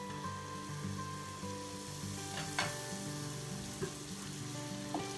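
Butter sizzles and fries in a skillet, a steady close crackle with a few brief scrapes or stirring knocks, and no talking.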